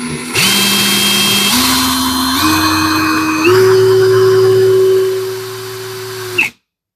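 A Parkside Performance 20-LI B2 cordless hammer drill runs up loudly, its whine stepping up in pitch in several stages before cutting off abruptly, close and with no talking.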